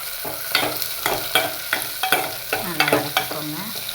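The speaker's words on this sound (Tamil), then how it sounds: "நல்லா வதக்கிக்கோங்க." Three large chopped onions sautéing in hot oil over high heat, a loud close sizzle broken by regular scraping stirs of a spoon against the pan, with no talking.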